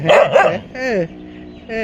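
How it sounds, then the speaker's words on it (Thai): A dog barks and whimpers in short, loud bursts close by, with a person speaking to it in between. "เห่าทำไม"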